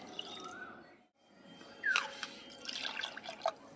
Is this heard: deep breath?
no